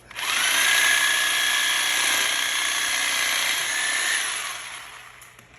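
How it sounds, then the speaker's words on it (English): A Sawzall reciprocating saw cuts in one continuous burst of about five seconds, close and loud, spinning up quickly and winding down at the end. "I cheat and I use the Sawzall."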